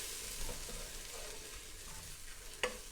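Butter and flour cook together in a pot as a roux for beef stew, a soft, quiet sizzle with occasional faint stirring and a couple of sharp utensil taps near the end, with no talking.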